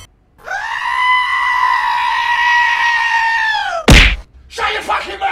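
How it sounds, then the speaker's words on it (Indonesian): Robot hero in the mobile game Mobile Arena lets out a long, sustained, tonal scream, loud and close, cut by a sharp burst near the end and followed by brief game noises. "Ternyata robot bisa teriak juga teman-teman ya."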